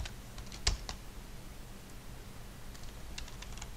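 Keys tapped on a computer keyboard while typing a short word into a text editor command prompt: a quick, quiet burst of clicks with one sharper keystroke, then a pause and a few more light taps, with no talk.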